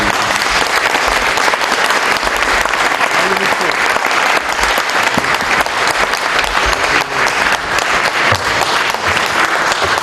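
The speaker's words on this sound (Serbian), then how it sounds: "Molim vas za aplauz za oca i brata" An audience at a formal academy ceremony breaks into loud, sustained applause, a continuous wash of many hands clapping for the full stretch, with a few voices mixed in.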